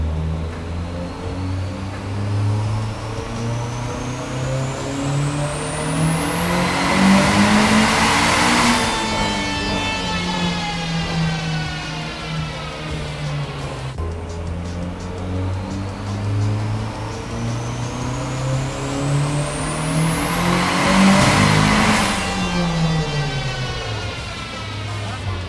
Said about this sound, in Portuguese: vamos acelerar, ver quanto tem de torque e potência na real aqui